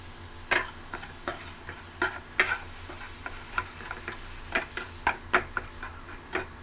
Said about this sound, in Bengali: দিয়ে দিলাম গুড়, গুড়টা একটু নাড়বো।